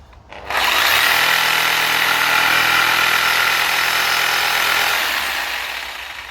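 Power tool grinding through the rubber rear torsion arm bush of a VW Passat B6, a loud continuous harsh buzz that starts abruptly, holds steady for several seconds, then eases slightly at the end.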